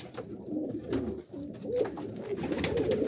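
A breeding pair of pigeons coos softly and repeatedly in a loft, with low, rhythmic throaty calls close by.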